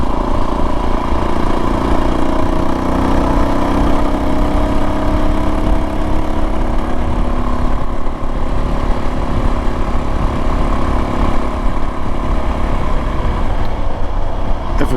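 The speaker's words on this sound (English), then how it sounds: "It's a nice quiet exhaust." A Suzuki DRZ motorcycle fitted with an FMF Q4 exhaust climbing a hill in fifth gear, giving a steady, loud droning engine note with wind rush throughout, no talking.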